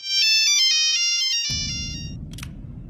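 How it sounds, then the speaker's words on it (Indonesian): A mobile phone ringtone plays a loud, bright melodic tune for about a second and a half, then cuts off into low rumbling noise with a brief hiss, as in a crime thriller scene. "Lalu Jason berusaha kembali menghubungi Katie yang masih belum ditemukan"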